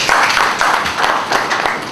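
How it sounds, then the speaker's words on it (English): A crowd applauds the BCAN president at a summit and book presentation, steady loud clapping from many hands lasting the whole stretch, with no voices over it. "a round of applause for the BCAN president"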